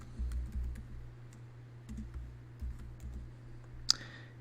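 Light, quick keystrokes tap on a computer keyboard in a quiet room, with a steady low hum underneath and one sharper click near the end.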